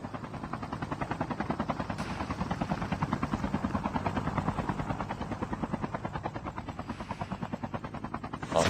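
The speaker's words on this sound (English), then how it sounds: "Team 4 was above them in a helicopter." Helicopter in the Call of Duty Mobile game during an esports qualifier match, a steady rhythmic rotor chop held loud and close throughout with no pauses.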